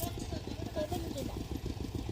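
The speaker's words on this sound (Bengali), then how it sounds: "ওই যে টিলার দিয়ে চাষ হচ্ছে দেখো" A power tiller engine ploughing a field runs with a steady chug and a fast, regular thump throughout, loud and close, with faint voices under it.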